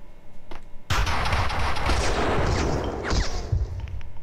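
Gunfire in the Max Payne 2 video game, a sudden loud burst that turns into a dense, sustained barrage of shots and blasts, with a few sharp cracks near the end.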